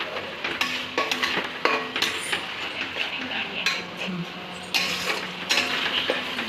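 A utensil stirs and scrapes masala paste for chicken in a pan, with repeated metallic clinks and scrapes over a continuous background sizzle, close and fairly loud.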